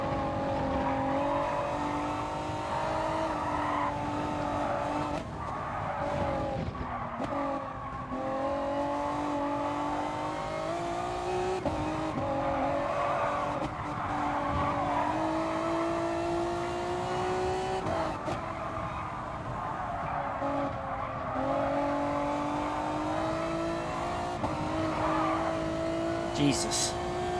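Race car engine in GT Sport, driven on worn-out rear tires, a loud continuous droning roar whose pitch rises and falls through gear changes and corners, with a brief squeal near the end.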